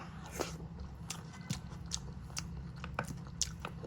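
Close, moist chewing of rice mixed with fish curry gravy, soft squishy bites and small crunches repeating irregularly over a low steady room hum, with no talking.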